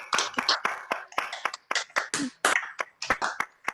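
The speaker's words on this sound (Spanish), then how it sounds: "podemos abrir los micrófonos para hacer un aplauso" An online audience applauds over unmuted microphones: a patchy, uneven scatter of claps and snaps from many separate connections. Bursts start and stop irregularly over a few seconds, with no speech on top.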